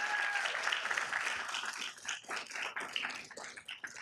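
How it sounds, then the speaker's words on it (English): Applause from the audience at a Downey city council meeting, a dense, fairly quiet patter of many hands that holds steady for about four seconds with no talk over it. "So give them a big round of applause."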